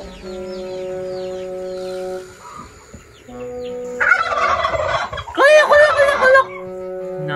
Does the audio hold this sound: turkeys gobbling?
yes